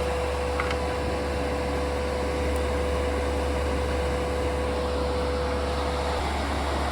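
A 3D-printed gear dryer with computer fans pushes air out through its holes, making a steady, unbroken whoosh and hum with a faint tonal whine, close and constant throughout.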